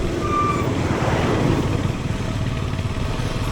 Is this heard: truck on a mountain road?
yes